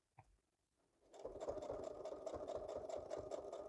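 A sewing machine slowly stitching through extra-thick layers, starting after a single click and a short pause, then running as a close, steady, rhythmic needle chatter with a low motor hum.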